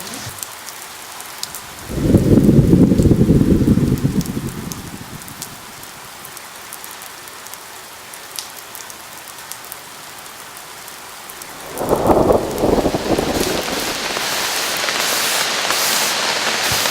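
Steady rain falls in a forest with distant thunder: a soft constant patter, broken by a low rumbling roll early on and a second louder burst near the end that leaves the downpour heavier.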